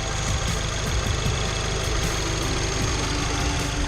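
Steady idle of a 2014 Subaru WRX engine, heard up close under an open hood with a continuous low rumble and faint ticking, with no talking.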